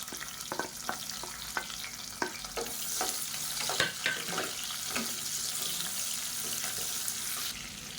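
Finely chopped small shallots and curry leaves fry in hot oil in a pan while being stirred, a steady close sizzle broken by sharp scraping and clinking strokes of a spoon.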